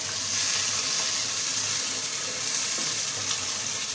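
Kashmiri chicken curry with yogurt sizzles and fries steadily in a pan as it is stirred, a dense, continuous crackle close by with no talk.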